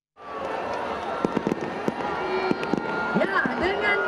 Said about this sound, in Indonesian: Pesta Kembang Api memeriahkan penghujung gelaran Jakarta Fair 2025.